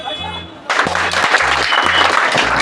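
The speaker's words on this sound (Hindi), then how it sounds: "वो जोर से ताली।" Crowd applause breaks out at a political rally during the Bihar election campaign, a dense, loud wash of clapping that rises suddenly and sustains, with a voice over it.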